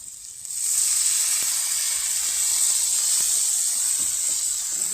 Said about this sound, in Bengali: পেঁয়াজটা ভাজা হয়ে গেছে, এখন একটু পানি দিয়ে দিতেছি।